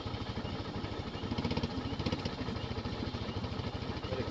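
A RZR side-by-side engine runs at a steady, rapid idle right after a night creek crossing, a close, even putter that continues throughout with no talking.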